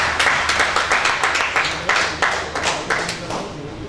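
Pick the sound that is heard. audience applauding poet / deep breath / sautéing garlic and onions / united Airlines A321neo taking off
audience applauding poet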